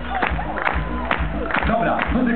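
Crowd at an outdoor dance event applauding and cheering, with scattered claps and whoops under an announcer's talk, moderately close and continuous.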